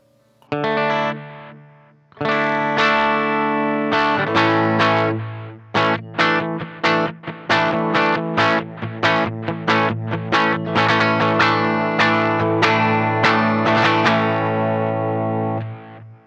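Electric guitar riffs through a Strymon Timeline delay pedal with the mix at 100%, heavy delay and modulation, notes repeating and smearing into each other, loud and continuous without any talking.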